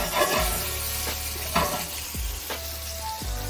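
Pork chops fry at high heat in a pan, giving a constant loud sizzle broken by several sharp pops and stirring scrapes, with no talking.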